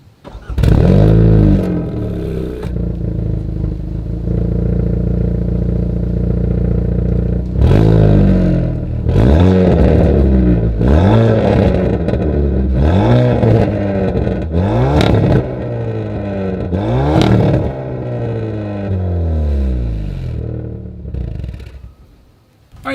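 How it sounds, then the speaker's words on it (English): A 2021 Hyundai Veloster N exhaust idling, then revved repeatedly in sharp, loud blips up close, each rev rising and falling back before settling to idle. "here is that exhaust clip"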